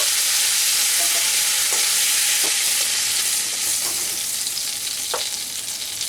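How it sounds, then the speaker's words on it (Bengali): Shrimp fries in a wok over a medium flame with mustard oil, a loud continuous crackling sizzle broken by several short scraping stirs, close up and with no voices. "চিংড়ি মাছ খুব হাই ফ্লেমে ভাজলে শক্ত হয়ে যায়"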